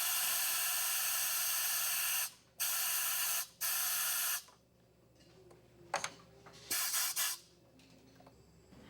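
Loud, close hissing bursts of air from a scuba regulator second-stage purge valve during testing, a long blast then two shorter ones, followed by quieter mechanical clicks and one more brief hiss.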